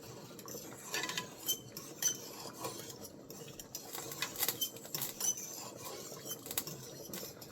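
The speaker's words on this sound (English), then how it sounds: "and then we're gonna stir it up." A utensil stirs butter in a cooking pot, with close, busy scraping and light clinking against the metal that keeps up throughout, fairly quiet and with no talking.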